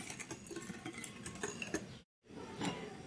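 Cornmeal cake batter with fennel being stirred after oil is added, a continuous close scraping and clinking of a utensil against the bowl, briefly cut by a silent gap.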